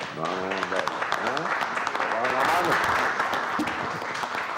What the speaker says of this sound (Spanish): Vamos a dar un aplauso a Fidel.